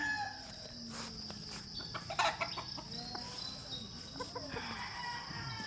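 Young sweater pullets clucking and calling softly in a yard, several scattered short calls over a faint background hum, fairly distant.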